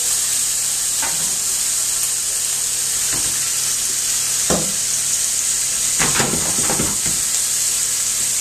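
Chopped garlic frying in a pan of smoky steak pie sauce with a steady, close hiss and sizzle, broken by a few soft stirring scrapes and clinks.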